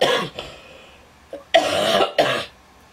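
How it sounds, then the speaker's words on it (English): A person coughs several times in bursts, harsh and close, with short pauses between the fits. "I've got a cough."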